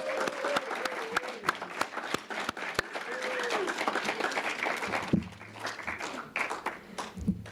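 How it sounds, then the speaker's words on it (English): A round of applause from a gathered group, with sharp individual claps over a dense clapping bed that thins out toward the end, alongside a faint voice. "let's give her a big round of applause."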